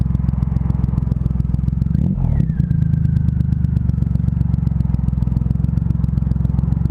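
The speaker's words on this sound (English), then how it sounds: "You feel that the bike just rocks as I give it a little blip." Close, steady motorcycle engine idling with a rapid, even rumble and a brief throttle blip near the middle, with a short whine after it before the idle settles.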